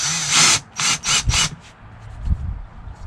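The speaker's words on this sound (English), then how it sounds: "let's get drilling here. These ones have got a bit of meat on them, so I can probably just drill them out" Several short bursts of a power drill whirring into metal on a 6x6 Perentie ambulance, loud and close, followed by quieter scraping and rattling.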